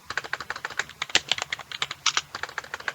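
Rapid typing on a computer keyboard, close and clear, with a quick irregular patter of distinct key clicks and no talking.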